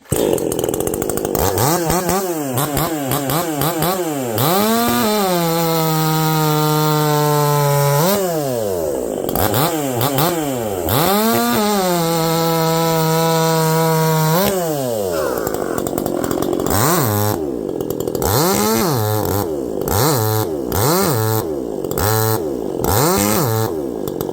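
A Husqvarna C33 chainsaw fitted with a .325 chain, straight out of the box, revs up and down repeatedly, with long sustained high-revving stretches as it cuts through wood and loud throttle swells in between.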